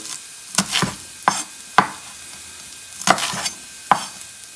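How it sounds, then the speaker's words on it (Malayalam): A knife slices six green chillies lengthwise on a cutting board for a Kerala prawn roast, giving about seven sharp, close cuts in irregular clusters against a quiet kitchen background. "ഞാനിവിടെ ഒരു 6 പീസസ് പച്ചമുളക് ഇടുന്നുണ്ട്. അത് നീളത്തിൽ ഇതുപോലെ അരിഞ്ഞിടുക"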